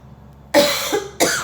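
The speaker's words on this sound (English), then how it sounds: "I really hope I don't cough through this whole thing." Two harsh, close coughs from a throat itch caused by allergies, following a short quiet pause.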